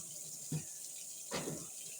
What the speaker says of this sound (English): I want to wash my hands real good.